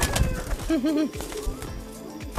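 Pigeons cooing close by at a home loft, a short rolling coo phrase rising and falling over a muffled background with faint rustling.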